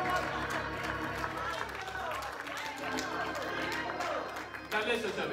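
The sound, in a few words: congregation clapping hands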